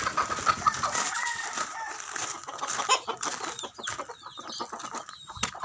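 A hen clucks repeatedly in short, near bursts, with sharp pecking taps scattered through a busy background; no one speaks.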